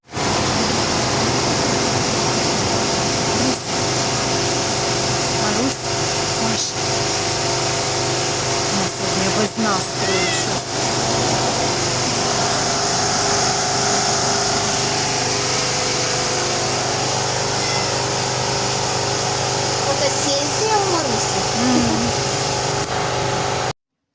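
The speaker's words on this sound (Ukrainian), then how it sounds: "поставили генератор, і тепер ми зі світлом. Бачите, все зажужжало, запрацювало" A power generator runs with a steady, unbroken mechanical hum and broadband roar, loud and close for the whole stretch, with faint clicks and tonal whines riding on top and no speech.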